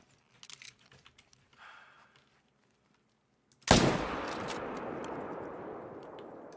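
A single loud rifle shot at a red deer in a hunting video game, sounding suddenly after a few faint clicks and followed by a long, fading rumble.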